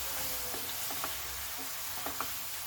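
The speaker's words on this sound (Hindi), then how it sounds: "अच्छे से इसका तेल जब तक के ऊपर नहीं आ जाता हम इसे भून लेंगे" Tomato masala with red chili, cumin and coriander powder sizzles in oil, a steady soft hiss with a few light clicks and taps from stirring, close and even throughout.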